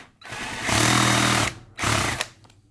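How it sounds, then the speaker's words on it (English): A power drill whines loudly in two bursts while boring a half-inch hole in a Magpul MOE handguard, a long steady run and then a shorter one after a brief pause, close by. "and then we'll use our 1/2 inch drill"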